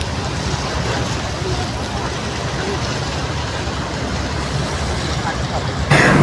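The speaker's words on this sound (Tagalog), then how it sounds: "ramdam na ramdam ko ang hampas ng alon ng tubig sa dagat" Sea waves strike near a harbour where ferry boats pass, a steady close broadband wash of surging water that swells abruptly louder in the final moment.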